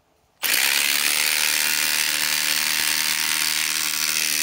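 A Milwaukee M18 Fuel Gen 4 2953-20 impact driver with a 6 amp Forge battery drives a 3-inch screw into a pre-drilled hole. It starts abruptly after a brief quiet, then hammers loudly and continuously up close.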